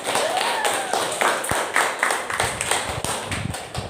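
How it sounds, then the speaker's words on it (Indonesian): Students in an Arabic language class clap in a short, uneven burst of close applause mixed with taps and a few voices in the room. "Ya, tepuk tangan semuanya."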